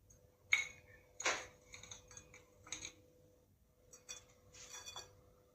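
A spoon scrapes and clinks against a dish as panjeeri is served out, in a few sharp, close knocks and scrapes with quiet pauses between them.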